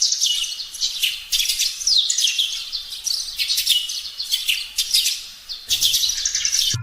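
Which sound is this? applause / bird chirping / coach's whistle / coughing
bird chirping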